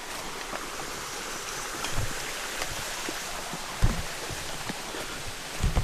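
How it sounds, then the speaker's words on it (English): Creek water running across a mountain hiking trail on the Cataloochee Divide Loop in June, a steady broadband wash with occasional soft splashes and knocks, close by and without voices. "Interesting when the trail becomes the creek."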